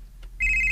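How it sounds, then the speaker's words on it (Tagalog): A cellphone ringtone starts abruptly partway through, a steady high electronic tone with harmonics that carries on loudly to the end, after a short quiet stretch. "Ang imong cellphone, may bagting ka rin."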